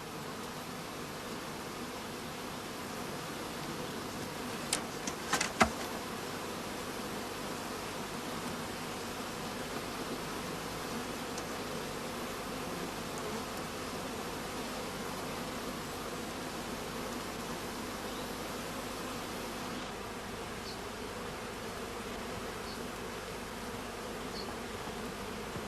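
Honeybees in a crowded hive colony, passages packed with bees over brood, make a steady, dense buzzing hum that holds at an even loudness throughout, with a couple of brief louder spikes near the start.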